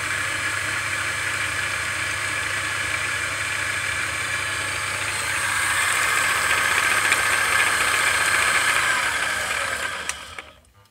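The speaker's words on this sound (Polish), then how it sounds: "Tak tokarka pracuje na pełnych obrotach." A lathe runs at full speed, driving a homemade generator rewound from a Jawa moped ignition. Its steady whirring hum rises in pitch and intensity midway, then cuts off abruptly near the end. No one speaks.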